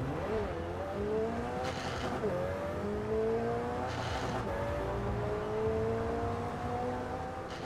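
Engine revving and tires squealing in the racing video game Forza Horizon 4, a loud continuous roar with rising and falling pitch sweeps as the car accelerates, with brief skid bursts.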